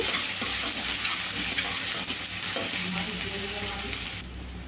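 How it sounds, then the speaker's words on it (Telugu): Sliced onion frying with curry leaves in a pan, giving a continuous close sizzle with soft stirring scrapes that drops abruptly quieter near the end; no voices. "కట్ చేసి పెట్టుకున్న ఉల్లిపాయ అండి చూడండి మంచిగా వేగాలండి"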